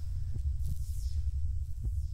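A heartbeat pulses in a Roblox game, with soft low thumps recurring roughly every three-quarters of a second beneath a steady deep droning hum.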